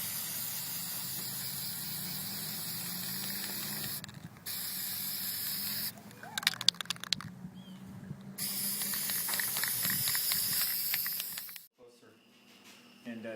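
Spray paint hissing onto a styrofoam headstone in several long bursts, loud and close, with short pauses between passes.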